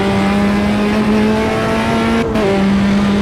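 Race car engine in the sim racing game Automobilista 2, holding a loud steady high drone with a brief dip as the gear changes, then settling back to a sustained whine with no talk over it.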